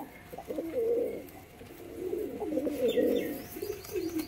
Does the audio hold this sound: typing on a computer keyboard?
no